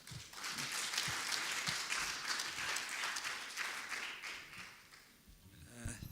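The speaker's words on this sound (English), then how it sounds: "Let's give another clap of applause." A conference audience applauds after a scientific presentation on HIV and infectious disease, a sustained wash of clapping from a crowd in a hall that thins and fades toward the end.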